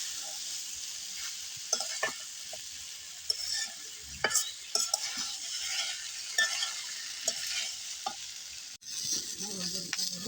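Eggplant and potato pieces sizzle and fry in a hot pan, with steady crackling and repeated scraping stirs throughout, close and fairly loud, no talking.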